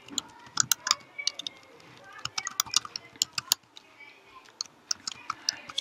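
Rapid, irregular clicking of keys typed on a computer keyboard, close and moderately loud, with short bursts and brief pauses in between.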